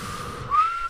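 A person whistles a single short, faint note that rises slightly near the end, with breathy air noise underneath.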